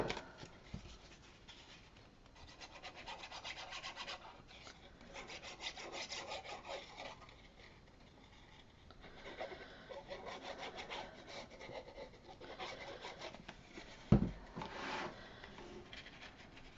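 Paper gets folded and burnished for a baby folio, soft scraping rubs in repeated strokes, quiet and close, with one brief louder tap near the end.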